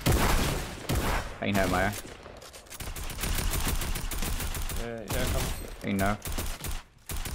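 Rapid bursts of gunfire in Fortnite crackle over and over, mixed with a game-like background, while a voice talks between the shots.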